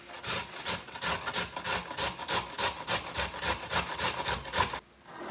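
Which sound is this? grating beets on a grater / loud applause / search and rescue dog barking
grating beets on a grater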